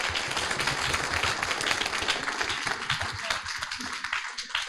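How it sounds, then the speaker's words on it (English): Audience at a climate startup pitch final claps in a steady burst of applause that gradually thins out toward the end. "Big round of applause"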